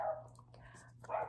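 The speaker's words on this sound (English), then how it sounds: "Sorry, that's my dogs." Pet dogs barking inside a house, a few sharp yelps at the start and again at the end with soft clicks between, heard near and moderately loud over a faint steady hum.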